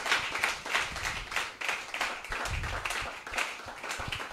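Church congregation clapping during a prayer and fasting service, a dense, steady wash of many hands with loose surges of applause lasting throughout.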